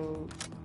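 Weapon reload in The Division 2, a short mechanical burst of metallic clicks and slides, quiet and close, lasting under a second.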